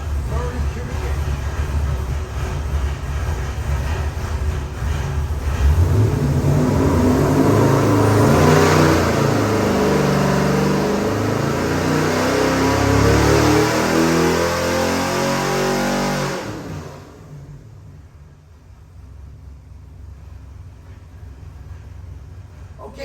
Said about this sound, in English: Okay, Dustin, I have your 71 Chevy Chevelle engine here on the dyno.